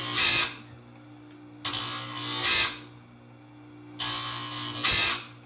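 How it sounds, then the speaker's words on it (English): Sawmill bandsaw blades being sharpened by hand give three loud, harsh rasping strokes, each lasting about a second or two, separated by pauses with a low steady hum underneath. "I'm sharpening my bandsaw blades for the sawmill"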